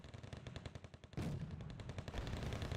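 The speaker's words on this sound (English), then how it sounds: "So our 50 caliber machine guns are continuing to open up on these guys" Fifty-caliber machine guns firing in Wargame: Red Dragon, a steady rapid stream of heavy, evenly spaced shots that suddenly grows louder and denser partway through as more guns join in.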